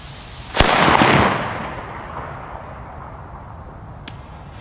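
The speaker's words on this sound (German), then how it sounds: "Jetzt machen wir einen China Böller C und einen Tiger Bomb C." A sharp firecracker bang from a China Böller or Tiger Bomb goes off close by, followed by a lingering crackling wash that fades, then a second smaller pop a few seconds later.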